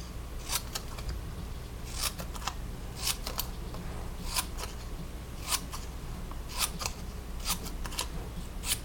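Scissors cutting paper for an art project, a steady series of crisp snips in paired bursts roughly every second, close and clear over a faint room hum, with no talking.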